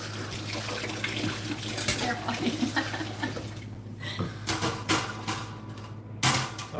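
Tap water running into a sink while dishes are rinsed, a steady close splashing hiss with clinks and knocks of dishware throughout.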